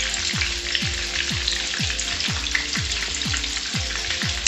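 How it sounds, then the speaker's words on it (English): Dough buns fry over a low fire with a continuous close sizzle, punctuated by a regular series of soft scraping or stirring strokes roughly twice a second, with no talking. "Cook it on a low fire."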